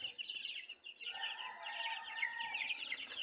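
Twelve-day-old broiler chickens kept on dextrose powder and vitamin water, heard as a dense, continuous mass of high peeping and chirping from many birds at once, faint but steady throughout.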